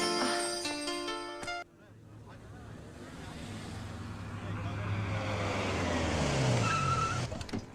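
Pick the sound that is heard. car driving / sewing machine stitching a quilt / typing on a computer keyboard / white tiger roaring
car driving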